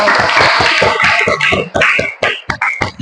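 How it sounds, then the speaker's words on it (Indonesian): A classroom of students clapping their hands together in a quick, rhythmic burst that thins into a few scattered final claps, loud and close. "Tepuk tangan untuk kita semua"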